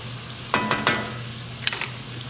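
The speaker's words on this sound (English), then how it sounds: "So we just dump that in the butter," Crawfish tails being dumped into hot sizzling butter for a Cajun crawfish étouffée. A few sharp splatters and clatters come close together, then a second short burst, all over a constant low frying hiss with no voices.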